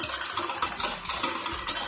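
Sour curd mixed with water being stirred in a pot for a rice-flour porridge, a faint, steady scraping and light clinking of a utensil against the metal, with no talk.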